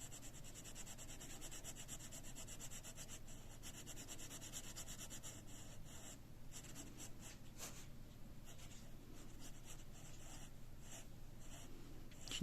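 A colored pencil lightly shading a fairy wing drawing, a faint, continuous soft scratching rub on paper with small pauses, very quiet and close.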